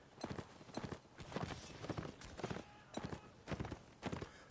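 Horse hooves clip-clopping in the Mount & Blade North & South mod during a line battle, a steady rhythmic series of about a dozen distinct hoof strikes at moderate volume.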